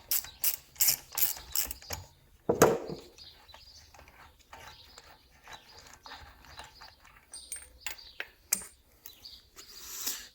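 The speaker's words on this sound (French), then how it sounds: "Et j'ai remis un coup de clé à cliquer." Ratchet wrench clicking in fast bursts while loosening a driveshaft nut on a 1990s BMW 318is E36 during rear bearing work, with one louder metallic clank and quieter intermittent ratcheting and handling noise after.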